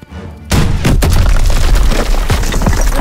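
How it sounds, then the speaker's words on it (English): A rocket launcher blasts through a weak wall in the World War II shooter Call of Duty WW2, one sudden loud boom that rolls into a sustained heavy rumble and debris noise. "Daniels, use your launcher to clear a path."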